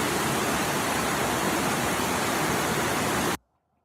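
Rushing waterfall in Cairns played back from a video: a steady, dense broadband roar of falling water, loud and continuous, cutting off abruptly near the end.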